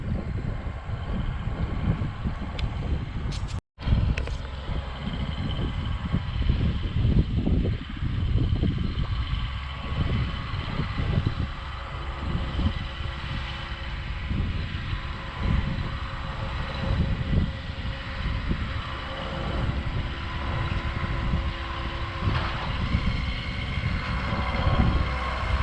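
A backhoe rolls down the road, its engine a continuous loud rumble with wind buffeting close to the microphone and a brief dropout partway through.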